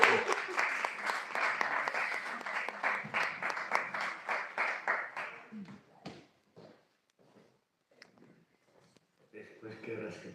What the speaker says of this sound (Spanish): damos un aplauso para que salga